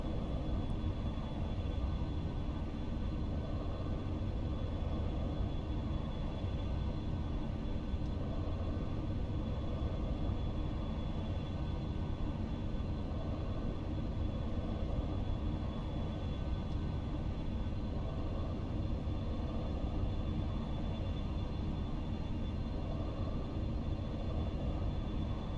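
Steady, continuous jet engine drone of a Shenshee B720B airliner in a flight simulator game, flying from Heathrow to Frankfurt, holding an even loud rumble with a faint high tone throughout and no talk.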